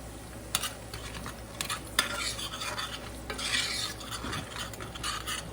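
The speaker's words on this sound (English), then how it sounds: "I am going to add about 4 tablespoons of olive oil. And 2 tablespoons of butter." Butter melting into olive oil in a pan, heard as a steady faint sizzle and hiss with a few light scrapes of a utensil, close by and fairly quiet throughout.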